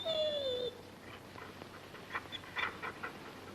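A dog gives a short, high-pitched whimpering whine at the start, then quieter snuffling sounds follow, in a 1960 western television episode.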